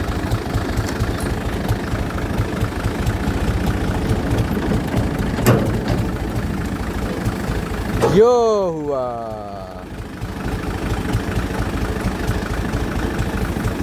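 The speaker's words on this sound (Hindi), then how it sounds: "तो मैं जो है ना अब इसको ऐसा ऐसा आगे लेके जाऊँगा ट्रैक्टर को" A tractor engine hauling a trolley loaded with wood runs at a steady, loud, low rumble throughout. A brief rising tonal sweep cuts through partway, and someone speaks a few words nearby.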